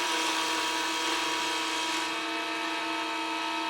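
A wood lathe spins a wooden bullet keychain blank while a turning tool cuts it round, giving a continuous high whirring hum with a steady cutting hiss, close and constant throughout.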